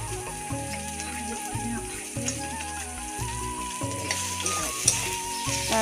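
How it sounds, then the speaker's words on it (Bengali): Close, steady sizzle of onions and lentil dumplings frying in hot oil, crackling throughout with occasional pops, while faint music plays underneath. "এবার দিয়ে দিলাম গোটা 10 বড় বড়ি"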